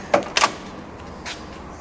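A Pontiac Bonneville's big car door opens with two quick mechanical clicks of the latch and handle, followed by a softer thud, close and brief with no talking.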